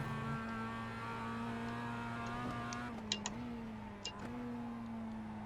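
A Mazda MX-5 race car engine in the iRacing game holds a steady, fairly quiet drone with a couple of brief throttle lifts and pickups. Faint ticks sit on top.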